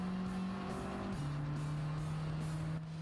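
Race car engine in Gran Turismo 7 holding a steady loud drone, then dropping in pitch as the gear changes and settling into a sustained hum, with no talk over it.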